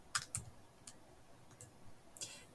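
Calculator keys pressed one at a time, faint quick clicks spaced irregularly across a quiet room with no voices.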